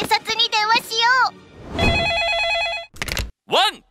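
A telephone rings with a trilling, electronic burst lasting about a second in a Japanese children's animated cartoon about safety, surrounded by high-pitched cartoon character voices speaking before and after.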